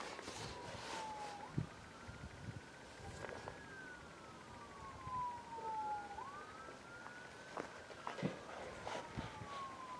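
Police sirens wail in rising and falling sweeps at a distance, with faint traffic and scattered clicks in the background.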